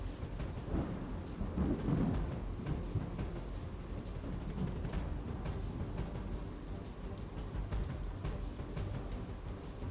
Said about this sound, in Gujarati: આજે પણ વહેલી સવારથી જૂનાગઢ શહેરની અંદર પણ ધોધમાર વરસાદ પડ્યો